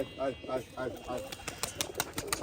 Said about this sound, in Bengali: এই যে এখন সাব্বির ভাই খাইতে দিচ্ছে কবুতর